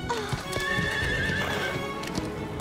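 A horse whinnies with a rising, wavering call while hooves clip-clop nearby, rain or noise hissing steadily underneath.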